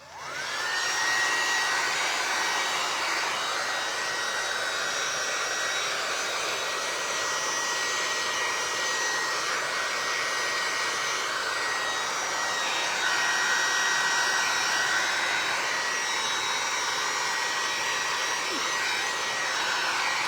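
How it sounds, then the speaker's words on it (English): A hair dryer runs loud and steady at close range, blowing on a painted vinyl record craft piece, its airflow roar wavering slightly throughout with no talking. "we're gonna dry it so that we can sand off our edges"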